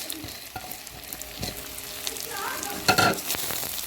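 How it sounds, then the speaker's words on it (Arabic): Dry rice being stirred and fried with onion in a pot, giving soft scraping and light sizzling with a few louder spoon scrapes near the end, close and moderate in level. "هننزل بالرز بتاعنا كده، شايفين الرز بتاعتي ناشفه ازاي عشان اقلبها مع البصله ديت"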